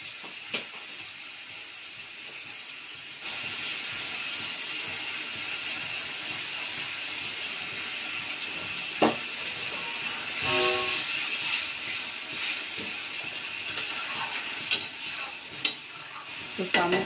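Fish sizzling in a pan of softened ingredients with a little water, a steady close frying hiss with stirring clatter and a louder burst of sizzle midway.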